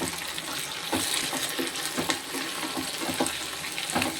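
Tomato and green chillies sauté in a pan for a dried-fish curry, a continuous soft frying hiss with regular spoon scrapes and stirring clicks throughout, fairly quiet and unaccompanied by speech.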